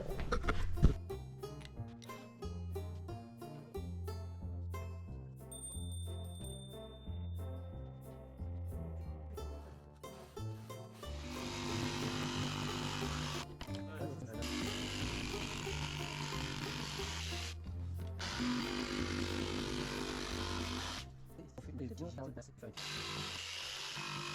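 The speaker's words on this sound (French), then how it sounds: "mon frère vient faire une découpe donc avec sa scie sauteuse" A jigsaw cuts wooden parquet flooring during the build of a passive house, a buzzing, pulsing saw drone that starts and stops in bursts and runs at length under intermittent voices.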